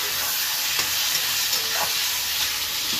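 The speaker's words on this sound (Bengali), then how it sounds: "একটু নাড়াচাড়া করে নিই।" Onions and medium-cut tomatoes fry in a pan for a rui fish curry while being stirred, a continuous close sizzle broken by a few soft scrapes and knocks, with no voices.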